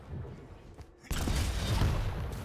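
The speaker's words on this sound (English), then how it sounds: "nice rocket bounce" Rocket fire and explosions in a Quake Champions professional league final match, a sudden loud broadband blast followed by sustained dense combat noise close up.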